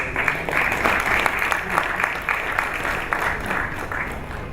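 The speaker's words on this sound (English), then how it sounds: "Please, a round of applause." An audience at a formal event at the Nigerian Institute of International Affairs applauds, a sustained dense round of clapping lasting several seconds at a fairly even level, with no speech over it.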